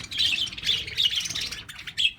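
Pet budgies squawk and chirp in short, bright bursts from close by, several calls overlapping in quick succession indoors.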